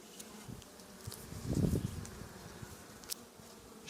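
Honeybees hum softly and steadily around an open hive during a layering job on the box, with one brief louder swell near the middle over a low background.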